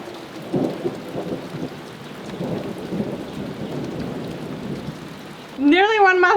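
A rainstorm patters steadily with low rumbles of thunder throughout, and a sudden loud, wavering tonal cry bursts in near the end.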